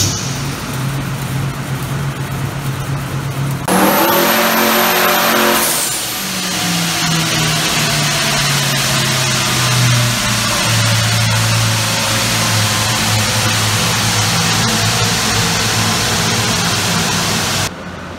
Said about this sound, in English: This is a single turbo car that Joe's been tuning on, and he's ready to do some dyno pulls on it now.